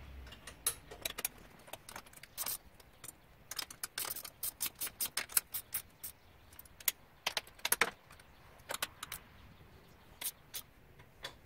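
Bolts being tightened on a KFI winch mount plate (model 100520) against a bumper, heard as quick bursts of sharp metallic ratchet clicks and clinks, close and irregular, with brief pauses between runs.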